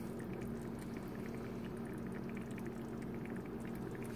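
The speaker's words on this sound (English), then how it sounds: "this is juice left from the chicken, drippings from the chicken. I'm pouring those in the sauce as well" Chicken drippings pour steadily into a simmering sauce for chicken Marbella, a soft continuous liquid trickle over a low bubbling hum, close and unbroken with no talking.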